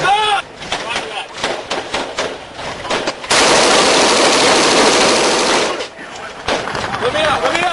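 Machine gun fire rattles during a firefight in Iraq, a loud sustained burst of rapid shots in the middle, with shouting voices and vehicle noise before and after.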